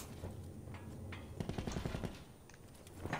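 Video game gunfire crackles in rapid automatic bursts, loudest in a quick stuttering run midway, fairly close and unaccompanied by talk.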